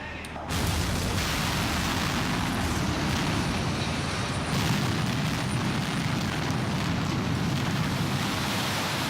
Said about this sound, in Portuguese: uma descarga elétrica causa explosão.